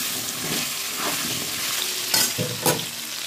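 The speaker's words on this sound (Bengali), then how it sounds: "তেলে 5 ফোড়ন দিয়ে আমি আলুগুলো ভেজে নিচ্ছি" Potatoes fry in oil with Bengali five-spice, salt and turmeric, making a close, steady sizzle broken by a few brief scraping stirs of the spatula, with no voices.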